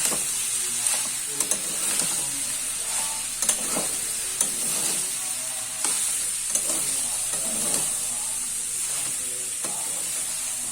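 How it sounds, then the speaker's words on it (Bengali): Poha (flattened rice) stirred in a pan on the stove, a steady scraping and rustling swish over a soft continuous sizzle, with repeated strokes of the spoon through the whole stretch, close and alone. "চিড়া দিয়ে দিচ্ছি। এবারে এটাকে ভালো করে নাড়িয়ে দিচ্ছি"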